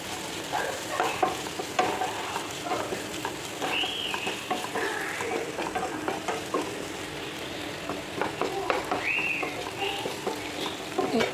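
Fennel seeds stirred into a sizzling egg curry masala in a pan, a constant moderate frying hiss with soft rhythmic scraping of a spoon throughout.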